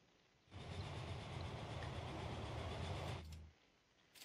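Trains rolling along a rail network in the transport-building game Transport Fever, a steady rumbling pass with rhythmic low clatter lasting about three seconds before fading off.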